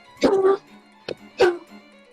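A dog gives two short barks and a brief yip in between, close and fairly loud, with a faint low hum underneath.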